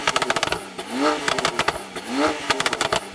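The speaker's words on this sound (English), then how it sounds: "And finally then, Jamie, let's hear your Porsche." A 900hp Porsche 911 Turbo S engine revs hard in sharp bursts with crackling pops between them, loud and close, with no speech.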